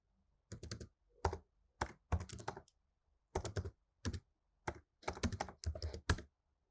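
Bursts of computer keyboard typing while a command to generate an RSA key is entered, clustered key clicks in quick runs separated by short pauses, close and clear with no talking.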